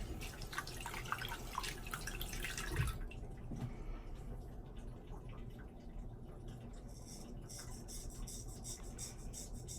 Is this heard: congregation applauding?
no